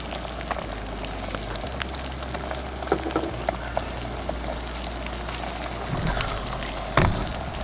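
Food fries on a single-burner camp stove, a continuous close crackling sizzle like light rain, with a few small clicks and a low steady burner rumble underneath.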